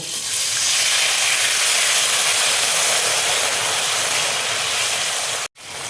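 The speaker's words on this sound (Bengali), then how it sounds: "এবার দেখো অল্প করে জল দিয়ে আমি সেদ্ধ করে নেব।" Soybeans boiling in a little water on a gas stove give off a loud, steady broadband steam hiss that fills the clip and cuts out abruptly near the end.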